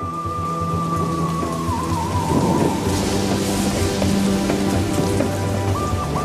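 Heavy rain pours steadily with rumbling thunder, a loud, continuous downpour with low rolling thunder throughout.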